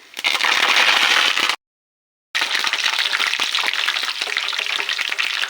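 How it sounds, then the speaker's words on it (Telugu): Mustard seeds, cumin and curry leaves frying in hot oil for a mango pickle, a loud dense sizzle and crackle close by that cuts out abruptly for a moment, then resumes slightly softer and steady. "ఆవాలు మంచిగా వేగేటప్పుడు ఆవాలు జీలకర్ర అందులో కొంచెం కరేపాకు వేసుకోవాలి"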